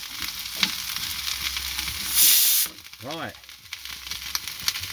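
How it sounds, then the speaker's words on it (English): Sticky honey soy pork stir fry sizzles and hisses steadily in a hot pan, with a brief louder burst of spitting, while a voice speaks a single word over the cooking. "That might get a bit sizzly and a bit hissy."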